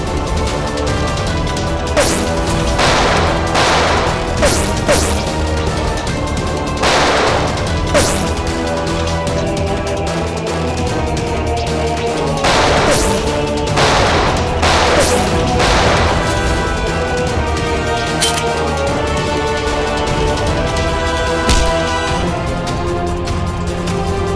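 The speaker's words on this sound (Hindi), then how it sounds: "बहुत जल्द गोलियां खत्म हो जाएगी।" Gunfire in a CID Hindi TV crime drama episode: repeated sharp shots and crashing impacts burst out over a dense, loud dramatic score, in irregular clusters across the scene.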